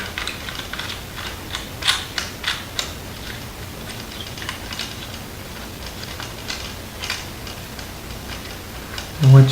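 Tightening the ball joint of a tablet floor stand, a series of small ticking clicks and ratcheting taps close by, quiet and irregular, ending with a louder knock.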